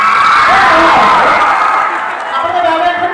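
A live audience at an Assamese comedy show cheers and whoops with some clapping, a loud crowd roar that fades slightly over a few seconds.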